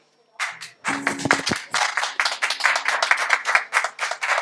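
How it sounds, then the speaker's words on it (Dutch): An audience claps for a performer, starting with a few scattered hand claps and swelling into a steady burst of close applause that continues to the end. "Applaus voor Timo."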